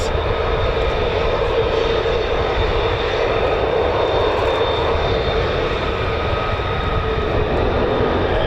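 F-35A fighter jets fly over RAF Lakenheath, a loud continuous engine roar with a bright high whine, filling the whole stretch without letup.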